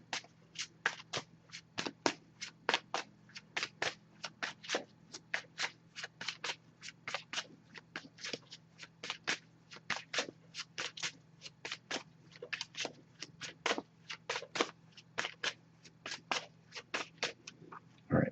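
A tarot deck shuffled steadily for a long stretch, rapid crisp flicks and slaps in a continuous rhythm over a low steady hum.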